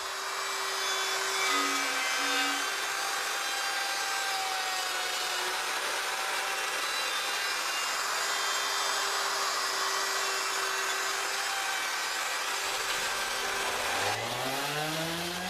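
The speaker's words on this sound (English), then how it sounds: "Here I'm making a test cut in a 1/4 inch sheet of plywood" A power saw makes a test cut through a 1/4 inch plywood sheet with a steady high whine and a rasping bite that runs for many seconds before winding down.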